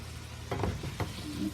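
Salt fish tossed into a pan with ackee, bringing a soft sizzle and a few stirring clatters over a steady frying hiss, fairly quiet and with no voices.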